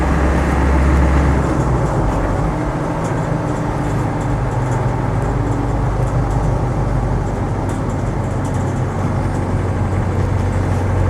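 A 20-year-old Land Rover 90 2.5TD hardtop on the move: a steady, loud diesel drone with heavy low rumble and road noise, unbroken throughout with no voices.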